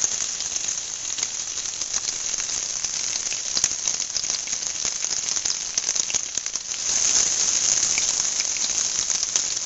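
Battered squash blossoms fry in hot oil, giving a steady, dense sizzle that runs the whole time with crackling pops, swelling a little louder near the end.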